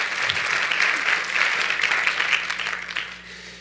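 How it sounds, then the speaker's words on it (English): An audience at a conference kickoff applauds a facilitator walking on stage: a brief, fairly dense round of clapping that holds steady, then thins and fades toward the end. "Let's have a round of applause for Megan, just for walking on stage."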